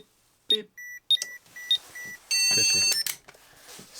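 A repaired ZX Spectrum 48k home computer gives a series of short electronic beeps, steady high tones spaced irregularly over a few seconds, with voices and some clatter around them.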